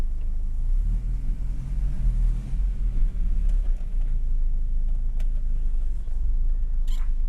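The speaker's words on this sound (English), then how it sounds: "about to go take the T5 Volvo down the street for its maiden voyage" A Volvo 240 with a swapped-in T5 engine driving down a street, a steady low engine rumble with mild swells as it pulls away, heard from inside the car without talk.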